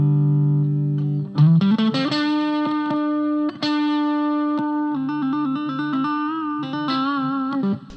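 An electric guitar is played through an out-of-phase pickup switch with a thin, nasal tone, sounding sustained chords and single notes that ring out cleanly and alone.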